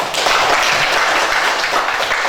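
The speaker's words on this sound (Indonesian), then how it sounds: "sekarang kita beri tepuk tangan untuk kelompok 3" Students in a classroom applaud group 3 after their presentation, a lively burst of many hands clapping that starts just after a brief pause and continues to the end.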